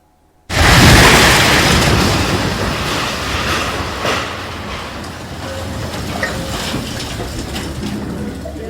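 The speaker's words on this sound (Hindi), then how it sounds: "मार्केट कॉम्प्लेक्स पर ताबड़तोड़ बुलडोजर चल रहा।" Bulldozer demolition of a market complex: a sudden loud crash followed by sustained rumbling, scraping and clattering debris, heavy and close, gradually settling into a steady grinding roar.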